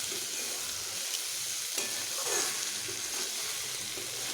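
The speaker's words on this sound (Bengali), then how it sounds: "শাকের সঙ্গে বেগুনগুলোকে এইভাবে মিশিয়ে আমি আরও একটু ভালোভাবে ভেজে নিচ্ছি" Radish leaves and eggplant sizzle and fry together in a pan, a steady crackling hiss close by with a few soft stirring scrapes and no talking.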